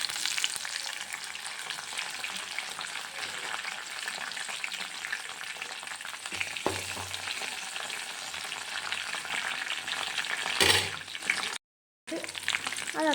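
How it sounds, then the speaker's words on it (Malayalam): Curry leaves hit hot oil for a chicken curry, raising a steady close sizzle with fine crackling. A sharper burst comes near the end, then a short gap of silence before the frying resumes. "ഇനി ഇതിനകത്തേക്ക് കറിവേപ്പില പിച്ചുന്ന സൗണ്ടാണ് കേൾക്കുന്നത്"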